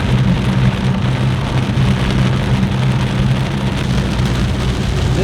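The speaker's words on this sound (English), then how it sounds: "it's raining hard." Heavy rain pounds on a moving car, an A90 Supra, on the drive home: a loud, dense, unbroken wash of drumming drops with a low road rumble underneath, and no voices.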